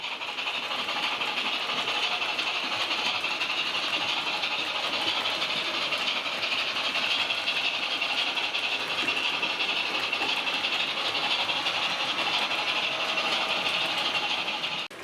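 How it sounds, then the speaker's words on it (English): A TT-scale model Flying Scotsman digital locomotive runs steadily on analogue along a track, giving a continuous rattling hiss that stays even throughout without pauses. "here we have the Flying Scotsman running in Analogue, digital TTS locomotive"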